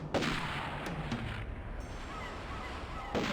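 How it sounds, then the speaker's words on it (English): Gunfire in James Bond 007: Nightfire comes as a few sharp shots, near the start and again at the end, over a constant backdrop of game ambience. "Someone's shooting at me."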